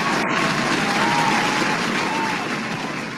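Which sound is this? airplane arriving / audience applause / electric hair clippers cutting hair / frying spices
audience applause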